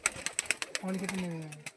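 Pigeons give a brief, low cooing call nearby after a few sharp clicks and taps, and a voice speaks faintly around it.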